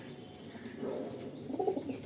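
An Andhra pigeon of Mangalagiri lineage gives a soft, low coo, a faint brief rolling call near the end under quiet room background.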